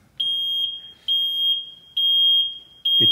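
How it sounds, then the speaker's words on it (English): Loud, shrill electronic seat warning beeps from a zero-turn mower repeat in paired bursts at a steady pace, close and piercing, with a faint low thump at the end. "it tells you with those beeps that there's no weight in the seat"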